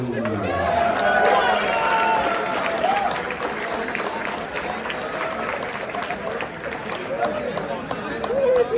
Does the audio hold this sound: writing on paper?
no